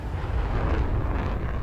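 A missile strikes an aircraft in a flight combat game, producing a dense, rumbling explosion that roars steadily without a sharp attack or pause.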